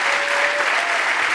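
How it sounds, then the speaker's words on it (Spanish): A church congregation on its feet claps loudly, a dense, continuous roar of hands close by with no gaps, lasting only a moment. "¿Por qué no se pone de pie y le damos un fuerte aplauso al Espíritu de Dios?"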